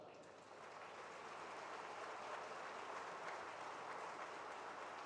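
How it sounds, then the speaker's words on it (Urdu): A crowd of students at a Muhammad Ali Jinnah University ceremony in Karachi applauds their parents, a sustained dense clapping that swells after a moment and continues evenly, somewhat distant. "اپنے والدین کے لیے زوردار تالیاں بجائیں"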